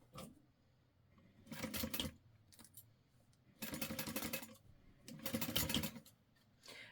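A sewing machine stitching straps onto a clear backpack, in three or four short bursts of rapid whirring separated by quiet pauses, close and fairly soft with no talk.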